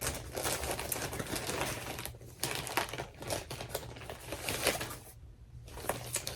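A plastic animal cracker bag crinkles and rustles as it is handled up close, in bursts of crisp crackling broken by two brief pauses.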